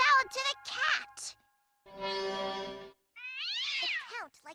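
A cartoon cat meows in a few drawn-out, wavering cries, heard clearly after a brief burst of speech at the start.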